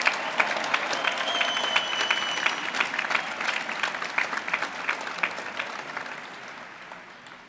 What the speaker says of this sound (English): Let's give them a hand of applause as well.